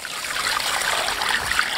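Tap water runs and splashes steadily while a four-jin carp, cut into three pieces, is rinsed at close range, a short continuous trickle without talk.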